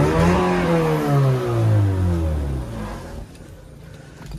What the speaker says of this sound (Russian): Давайте прогазуем.